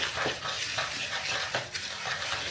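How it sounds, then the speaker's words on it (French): A fork stirs semolina coated in olive oil for tabbouleh, giving soft, repeated scraping and scratching strokes against a bowl in a steady rhythm, close and fairly quiet, with no voices. "Je prends une fourchette et je viens touiller"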